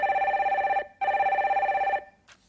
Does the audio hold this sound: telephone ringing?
yes